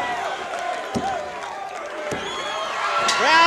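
A wrestling arena crowd at a 1985 Mid South Wrestling match roars and whoops loudly and continuously, with a couple of sharp slam-like thuds and rising cheers toward the end.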